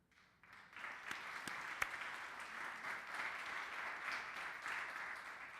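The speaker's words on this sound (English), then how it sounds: "Keep clapping" A staff audience at a university president's fall service-recognition report applauds steadily, a dense, sustained wash of many hands clapping that swells in after a quiet start and holds at an even level, with a few sharper claps standing out.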